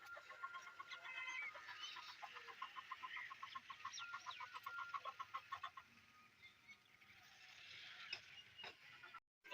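Village fowl, with a rooster among them, cluck and call in a faint, busy chorus of short repeated notes that carries on for several seconds, then cuts off abruptly.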